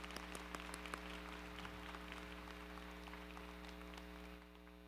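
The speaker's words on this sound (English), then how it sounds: "All right, let's give all reward recipients one final round of applause." An audience at a spring convocation gives award recipients a final round of applause, steady clapping from the hall over a constant electrical hum, fading slightly at the end.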